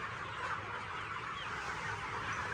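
Chickens on a free-range poultry farm cluck in a dense, continuous chorus, a steady flock murmur with no voices over it.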